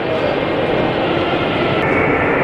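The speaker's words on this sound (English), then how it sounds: "Tram at Red Square." A steady, loud rumble of a tram rolling along rails at Red Square, a continuous broad noise with no pauses.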